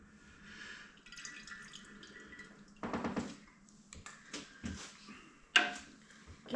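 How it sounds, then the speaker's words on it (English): Ginger syrup poured into a keg of mead makes a wet trickle and splashing with a few sharp bursts of liquid, heard up close with no talking. "2 ounces of ginger syrup going in."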